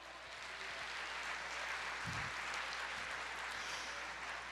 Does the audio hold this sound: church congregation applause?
yes